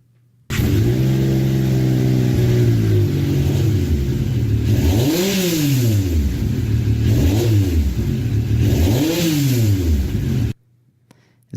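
Yamaha YXZ side-by-side engine revved hard three times in a row, each rise and fall sharp and loud, close up and alone over a steady idle.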